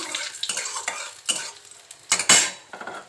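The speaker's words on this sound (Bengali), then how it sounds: "তেল গরম হয়ে গেছে এখানে দেখো আমি সর্ষে আর কালো জিরে ফোড়ন দিলাম আর দুটো শুকনো লঙ্কা দিলাম ভালো করে ভেজে নিচ্ছি" Mustard seeds, black cumin and dried chillies crackle in hot oil for amla pickle, with loud metallic scrapes and clinks of a spatula stirring in bursts over the sizzle.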